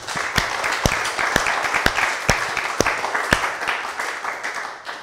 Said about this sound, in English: I think we should give ourselves a round of applause